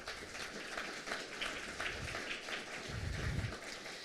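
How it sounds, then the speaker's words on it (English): An audience applauds event sponsors at a public science talk, a faint, distant patter of many hands clapping that swells slightly before trailing off. "Can we give all those sponsors a round of applause"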